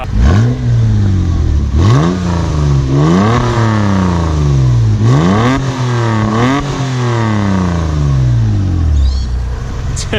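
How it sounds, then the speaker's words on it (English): The V6 in a Toyota MR2 revs up and falls back about four times, loud and close, with a rising, raspy engine note over a steady idle rumble. "I want to rev it a little bit so you can hear what the V6 sounds like."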